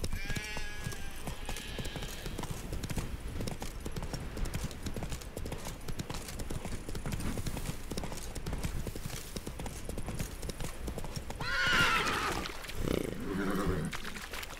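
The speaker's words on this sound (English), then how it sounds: "Horses are so finicky." Hooves of the horse Roach clip-clop in a steady rapid rhythm in The Witcher 3 video game, joined near the end by a loud whinnying neigh over the game's ambient sound.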